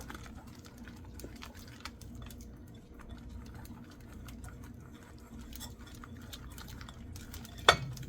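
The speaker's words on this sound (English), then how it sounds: "Let's stir that up." Flourless chocolate cake batter being stirred in a bowl, a soft continuous scraping and patter close by, with a sharp clink near the end.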